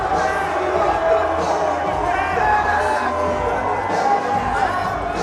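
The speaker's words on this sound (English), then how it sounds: "still quite the crowd here at midnight" Large late-night crowd at a fight event roars and cheers in a loud, continuous wall of noise, with whoops and babble running through the whole stretch.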